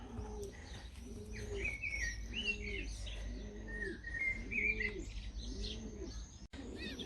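Repeated low, rounded coos from a Red Bokhara pigeon pulse steadily, about one per second, with brighter chirps from other birds overhead and a constant low background hum.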